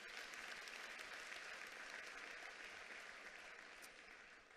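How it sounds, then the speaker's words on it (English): At a matric results announcement, a large audience applauds its educators with a continuous, even wash of clapping that sounds somewhat distant and tapers slightly toward the end. "I'd like us to give a hand of applause to our educators."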